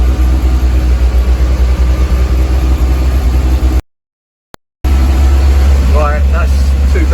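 A BMW E30 engine, warmed up to temperature, drones loudly and steadily at 2000 rpm in a garage, a raised, even pitch, cut off for about a second, then resumes with a brief voice over it.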